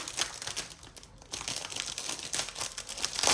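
Crinkling plastic wrapping as a package is torn open, a continuous close rustle and crackle of wrapping with no talk.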